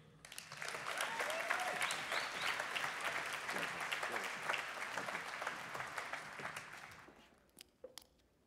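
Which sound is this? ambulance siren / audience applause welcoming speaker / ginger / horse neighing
audience applause welcoming speaker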